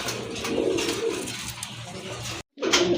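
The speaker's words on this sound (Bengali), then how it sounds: "দেখেন গ্যালারিতে আনার পরেও কিন্তু খুবই সুন্দরভাবে চমৎকারভাবে ডাকতেছে কবুতরটা" Deep red pigeons coo softly in a gallery of a pigeon collection, low throaty calls repeating under faint room noise, broken by a short gap of silence.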